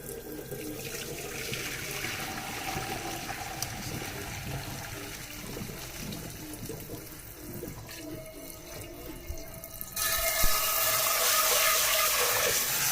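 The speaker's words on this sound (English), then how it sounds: "you do want to run cold water so it doesn't keep on cooking" Cold tap water runs steadily into a sink over strained pasta for a long stretch, splashing and gurgling over cookware, then grows louder and brighter as the flow increases.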